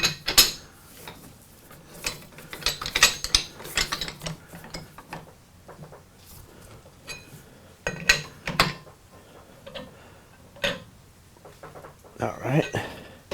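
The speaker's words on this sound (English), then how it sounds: "Now we can go ahead and screw in our two top jaws." A ratchet wrench clicks in close, fast bursts while the two top jaws of a brazing fixture are screwed in, with metallic ratcheting runs separated by short pauses and occasional clanks of metal tooling.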